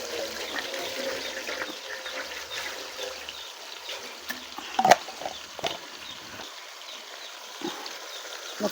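A country chicken curry fries in oil in a pan, giving a soft, steady sizzle and bubbling with occasional faint clicks and stirring scrapes, fairly quiet and close.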